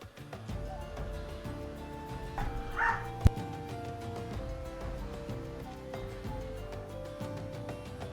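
A dog barks a few times, faint and distant, under a busy background of game music and ambience, with one sharp click partway through.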